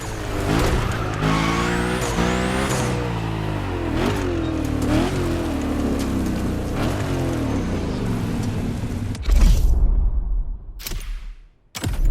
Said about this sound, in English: They're both powered by the same big block engine.